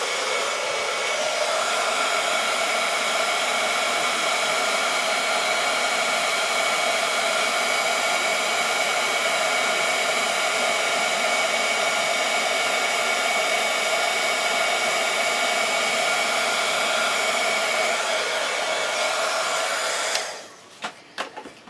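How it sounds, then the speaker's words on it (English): A handheld heat tool blows hot air to melt embossing powder on a Halloween mummy card, a loud, steady, hair-dryer-like whoosh running unbroken for about twenty seconds before it switches off abruptly, with a few light clicks after. "I'm going to go ahead and heat this with my heat tool"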